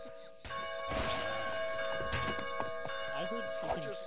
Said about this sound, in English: Wait, can I ring the bell with the lumber?